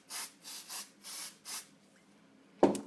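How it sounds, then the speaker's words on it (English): Five short hissing bursts of spray adhesive from an aerosol can in an uneven rhythm, followed by a brief knock near the end. "first I'm going to put some spray adhesive on the back."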